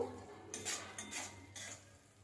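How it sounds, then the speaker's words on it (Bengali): A spice masala is stir-fried in a pan, with three quiet spatula scrapes against the metal over faint background hiss, soft and close with no voices. "মশলা ভালোভাবে কষিয়ে নেব"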